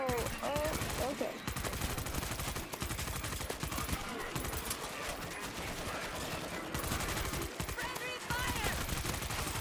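Dense, rapid gunfire from the zombie shooter World War Z, with shots striking teammates. Loud, nearly continuous bursts run the whole way, with a voice faintly present under the din.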